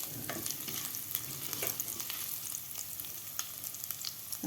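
Small chopped ginger pieces frying in a pan for matar pulao, a soft continuous sizzle with scattered sharp scrapes and taps as the pieces are stirred, fairly quiet.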